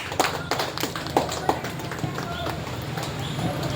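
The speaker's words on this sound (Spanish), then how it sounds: "Dale una ofrenda de palmas al Señor." A church congregation claps for the Lord at a testimony service, giving sharp irregular hand claps over steady background talk.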